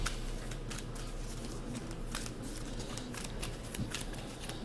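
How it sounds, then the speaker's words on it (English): Arkham Horror card game cards are shuffled by hand in a steady, close papery riffle and rustle lasting several seconds, with no talking. "So let's go ahead and shuffle these up really good."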